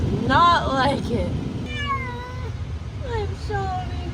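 A cat meows repeatedly in long, drawn-out, complaining wails, close by, over a low rumbling background like a moving vehicle.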